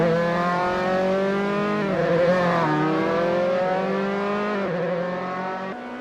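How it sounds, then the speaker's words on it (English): Dallara F312 race car engine in Assetto Corsa club racing at Las Vegas, a loud sustained high-revving whine with rising and falling pitch across several gear changes, no talk over it. "The rumble of the engine, the scent of the rubber, and Rob comfortably sitting at first."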